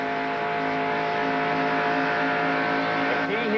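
IROC race cars at Michigan roar in a dense, steady engine drone, loud and continuous as the pack runs, with a commentator talking over the noise.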